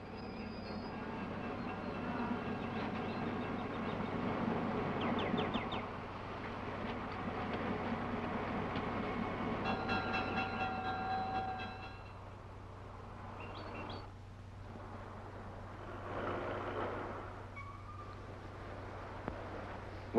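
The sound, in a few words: train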